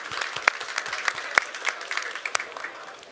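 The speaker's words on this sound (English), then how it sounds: "welcome you on stage with some round of applause to gather the attention" A tech summit audience claps to welcome speakers on stage, with individual hand claps standing out clearly in a moderate, fairly sparse round of applause.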